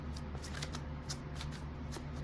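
Tarot cards are shuffled continuously at close range, a steady papery riffle and rustle with repeated soft slaps, no voices over it.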